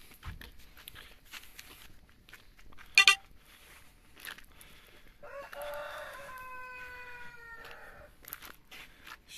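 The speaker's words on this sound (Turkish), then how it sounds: "tavuk bize selam veriyor." A chicken in a Turkish village gives a drawn-out, wavering call in the middle of an otherwise quiet outdoor scene, with a sharp brief clatter and faint scattered noises around it.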